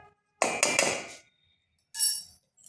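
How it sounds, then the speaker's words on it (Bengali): A utensil beating rice flour batter in a bowl, two quick bursts of clinking, scraping strokes separated by a short silence, close and fairly quiet. "এটাকে আর বেশ একটু ফেটিয়ে নিচ্ছি"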